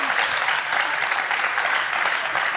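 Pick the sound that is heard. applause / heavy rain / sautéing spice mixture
applause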